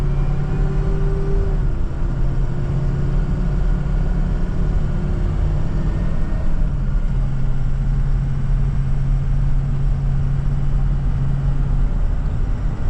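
A 2004 Ford Excursion Limited with a 6.0L Powerstroke diesel and 4WD rumbles steadily from inside the cabin while accelerating, its low engine drone shifting pitch as it moves through the gears, with road noise underneath and no talking.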